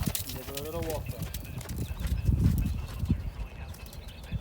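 A ridden horse walking on a long rein in a riding arena, its hooves clopping steadily at a relaxed pace under an instructor's voice and a brief neigh near the start.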